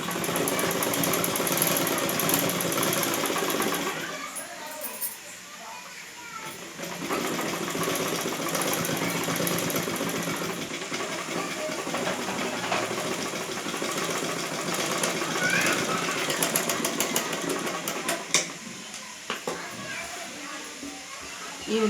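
Sewing machine stitching a patch onto a blouse back neck, a steady dense mechanical whir running throughout with brief pauses and shifts in speed, fairly loud and close.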